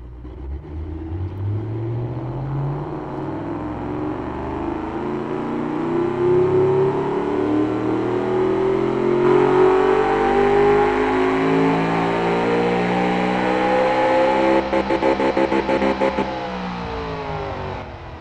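A car engine in the video game Automation, with catalytic converters and a straight-through muffler, revs up in one long, smooth climb, the pitch rising steadily to a loud sustained roar before cutting off.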